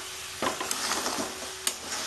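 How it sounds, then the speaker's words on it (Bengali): Mutton being sautéed and stirred in a pan with a little hot water for Bengali-style curry, a close steady sizzle broken by scraping stirs and a couple of utensil clinks. "গরম জল দিয়ে আমি কষতে থাকবো"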